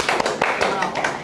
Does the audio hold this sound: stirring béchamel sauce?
no